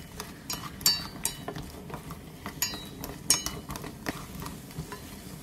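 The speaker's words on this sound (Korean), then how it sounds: "냄비에 무와 물 3분의 1컵, 고춧가루 1스푼을 넣고 중약불에서 볶아주세요" Utensils scrape and clink against a pot in irregular bursts as radish with water and chili flakes sizzles steadily underneath over medium-low heat, close and clear with no talking.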